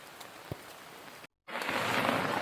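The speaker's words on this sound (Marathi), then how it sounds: "आता पाऊस मस्तपैकी पडला" Heavy monsoon rain falls in Konkan, a continuous wash of drops that cuts out briefly and then returns fuller and louder, with a single close tap early on.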